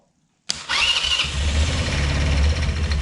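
A 150cc monster quad engine cranks and catches after a short silence, then settles into a loud, steady, throbbing idle with no talking.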